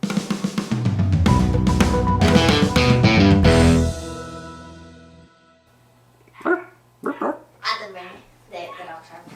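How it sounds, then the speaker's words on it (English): Several dogs give a short burst of barks and yips late in the clip, close by, after a stretch of music that fades out. "At least they made it till the very end before they started barking."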